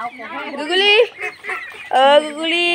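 Ducks quack and honk nearby in a few harsh, nasal calls, one after another with brief pauses.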